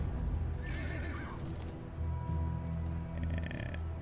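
A horse in Darkest Dungeon 2 neighs and whinnies over a steady low rumble of hoofbeats, with a brief metallic jingle near the end.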